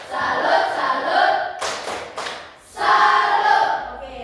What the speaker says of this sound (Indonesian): Tepuk salut. Salut, salut.